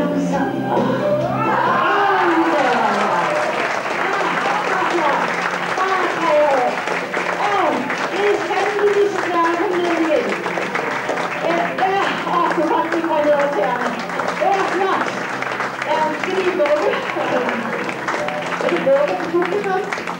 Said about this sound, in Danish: Og så klapper vi igen.